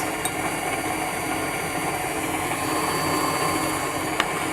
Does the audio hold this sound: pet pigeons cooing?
no